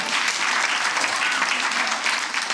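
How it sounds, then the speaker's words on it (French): A theatre audience applauds at a Quebec stand-up comedy show, steady dense clapping filling the whole stretch without a break. "Ça, c'est la seule fois de l'histoire que le monde a applaudi le village québécois d'antan."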